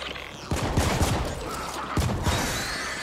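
Bursts of gunfire from the video game The Ascent crackle in a dense, loud volley, with a second burst starting partway through over a constant backdrop of game sound.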